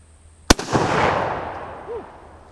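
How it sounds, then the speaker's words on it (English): One loud, sharp crack of a Terni Carcano 6.5x52mm rifle fired outdoors, followed by a long rolling echo that fades over about two seconds. "First time shooting this rifle."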